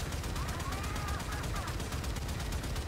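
Sustained rapid automatic gunfire from ship guns in the Warframe Railjack space combat game, a dense continuous rattle with a faint overheating whine underneath, steady and loud throughout.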